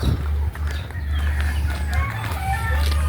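Hens cluck and a rooster crows amid a busy farmyard, with a low steady hum underneath and occasional faint voices.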